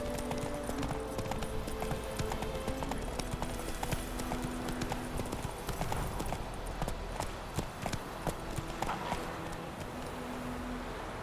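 Roach the horse's hooves clip-clop steadily in The Witcher 3, a continuous rhythmic walking gait, close and clear, with game ambience behind it.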